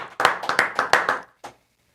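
A small podcast audience claps for a guest: a brief burst of close, crisp handclaps in a quick uneven rhythm, fading out with one last clap after a short pause.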